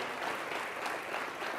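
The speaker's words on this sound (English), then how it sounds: "So, round of applause for Kalasha at 7." Audience applause at a film and TV festival awards event, a short, dense burst of clapping that stays loud and even throughout, with no voices over it.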